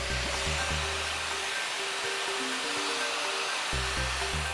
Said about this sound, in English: From here, we're gonna blow dry.